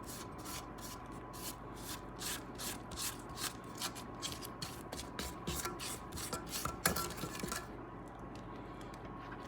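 Spatula scraping down a stand mixer's beater and bowl of cream cheese pound cake batter, giving a steady run of short rubbing scrapes, close and fairly quiet, alone with no talk.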